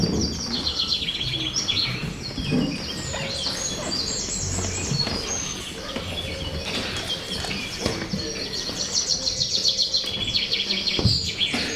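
Many small birds chirp and call together outdoors, a loud, dense chorus of tweets and trills that runs steadily throughout.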